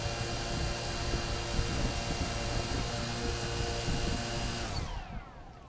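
Wltoys V303 RC quadcopter motors at low throttle, a steady close high-pitched electric whine and whir that holds for several seconds, then winds down and fades.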